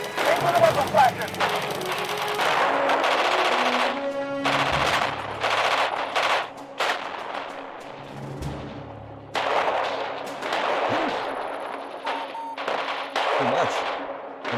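Machine gun fire in a war video game, with repeated bursts of automatic fire mixed with explosions, engine rumble and other battle noise throughout, while a voice talks over parts of it.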